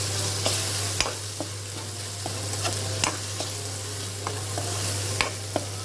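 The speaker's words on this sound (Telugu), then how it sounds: "అలాగే పసుపు వేసుకుని ఒక 2 నిమిషాలు వేగనిచ్చుకోవాలి, మగ్గనిచ్చుకోవాలి." A curry with salt and turmeric fries in a pan under a steady sizzle, punctuated by regular spoon strokes scraping and tapping the pan every second or so.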